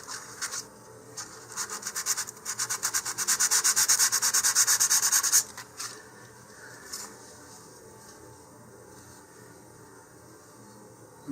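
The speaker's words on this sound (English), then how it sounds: "You don't need to sand so much that the line goes away" Sandpaper rubbed along a marked line on a Rocketarium Gadfly SA-11 model rocket, quick rhythmic scratchy strokes building to a sustained rasp before trailing off into quieter intermittent rubbing, close and fairly soft.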